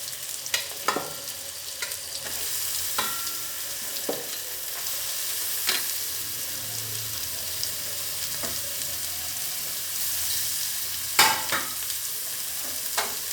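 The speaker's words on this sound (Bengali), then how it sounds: "এবার বাঁধাকপির সঙ্গে মশলাগুলো সুন্দর করে এভাবে কষিয়ে নিচ্ছি" Shredded cabbage frying with spices in a pan, a continuous close sizzle under repeated scraping and clattering stirs of a spoon against the metal, with no voices.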